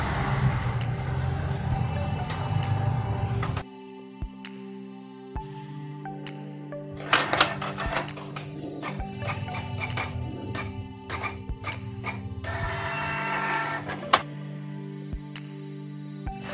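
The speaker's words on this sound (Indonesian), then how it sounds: "Printer akan mencetak secara otomatis." A Canon IP2770 inkjet printer runs its automatic print cycle, with a steady low mechanical whir that drops away and returns in bursts, joined by sharp clacks and ticks from the carriage. It is heard close and alone.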